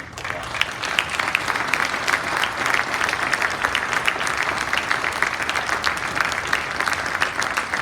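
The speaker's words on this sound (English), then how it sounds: "let's give the veterans one more round of applause" Sustained applause from the audience at a hospital Veterans Day ceremony honouring veterans, dense, even clapping that continues at a steady, fairly loud level for the whole stretch.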